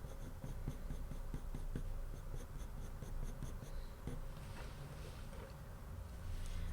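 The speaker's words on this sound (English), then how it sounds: "I am just going in and increasing the pressure on the pencil and also just clustering the fur a little bit closer together" Colored pencil scratches steadily across paper while drawing a cat's fur, with quick close repeated strokes building in rhythmic clusters, soft and intimate with no talking.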